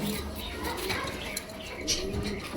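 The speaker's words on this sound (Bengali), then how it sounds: "এখানে আছে এক পেয়ার দোপাস কবুতর কালো দোপাস" Low, soft cooing of a pair of black dopash pigeons repeats under a noisy background, with faint chirps and rustling nearby.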